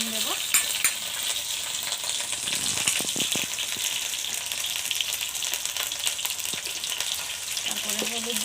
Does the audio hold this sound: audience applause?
no